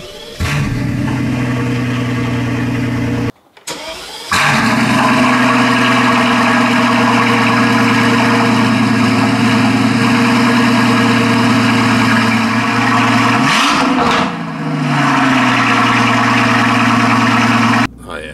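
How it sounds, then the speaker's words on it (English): A straight-piped Mercedes S65 AMG 6.0L V12 fires up from cold, its loud, throaty idle briefly cutting out, then settling into a steady drone, with a short blip before the engine shuts off. "But it's an AMG V12. We're gonna see with straight pipe cold start."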